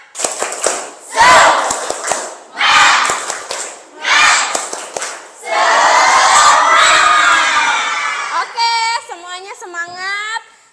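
A class of students performs a rhythmic spirit clap chant, bursts of group clapping and shouted syllables in short phrases, ending with loud cheering and a few children's voices calling out.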